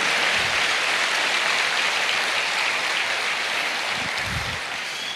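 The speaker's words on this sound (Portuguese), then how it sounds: "Pode aplaudir o Senhor agora." A church congregation applauds in praise, a dense steady wash of many hands clapping that fills the whole stretch at an even level, with no voices standing out.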